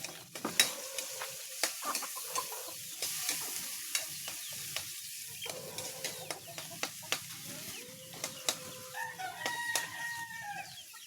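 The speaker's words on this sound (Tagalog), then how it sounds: "Gigisa na yung ating sayote." Chayote (sayote) sautéing in a pan, with a soft sizzle under repeated sharp clicks and scrapes of a spatula, and a rooster crowing in the background.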